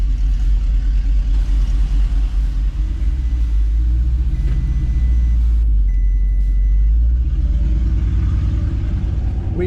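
Loud deep rumble of a Porsche Cayenne fitted with big turbos driving up a road, a steady low engine drone heard close without talk.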